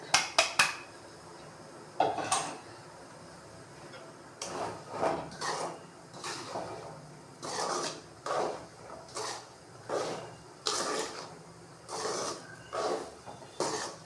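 A spoon scrapes and clatters around a cooking pan, stirring a millet flour mix of pearl millet, finger millet and sorghum in sunflower oil. The bursts are short and rhythmic, roughly one per second, close and fairly loud.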